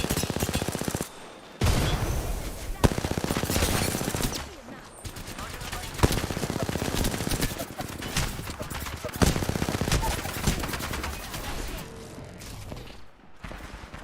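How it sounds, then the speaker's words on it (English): Gunfire in the video game Apex Legends, rapid automatic bursts and fusillades filling most of the stretch with a brief pause near the start, loud and close, game audio running throughout. "I am taking fire"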